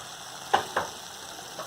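Ground coriander and turmeric stirred into hot oil in a pan for a moth bean dry curry, a steady low sizzle broken by two distinct spoon scrapes close up, with no talking.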